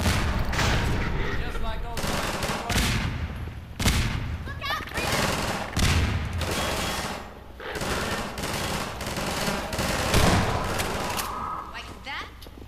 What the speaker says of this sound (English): Let's try a grenade.